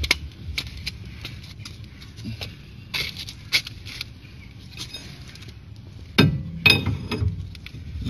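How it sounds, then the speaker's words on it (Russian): A hammer strikes a Ford Sierra front wheel hub with sharp metallic knocks at irregular intervals, a few louder clanging strikes near the end, with quiet shuffling between hits. "возможно, нужно будет помочь молотком"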